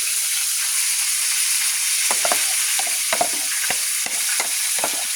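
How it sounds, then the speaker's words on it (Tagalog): Garlic and shallot fry in a pan until brown, giving a steady bright sizzle and hiss, with a few light scrapes and clicks of stirring near the end. "Garlic with shallot. Garlic and shallot."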